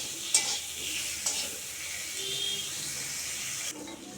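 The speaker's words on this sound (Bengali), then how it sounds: "এবার উস্তেটা আমি ভেজে নিই" Bitter gourd frying in mustard oil in a pan gives a steady close sizzle and hiss, with a couple of brief sharp clinks from stirring.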